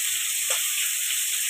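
Cauliflower pieces fry in a hot pan with a steady, close sizzle and hiss, unbroken for the whole moment, with no voices.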